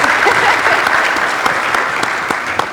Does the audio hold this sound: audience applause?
yes